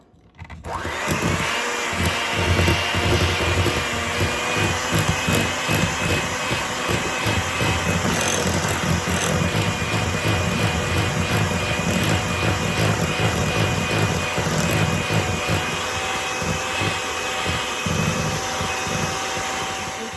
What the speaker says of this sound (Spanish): Por el ruido, ¿verdad?, de la batidora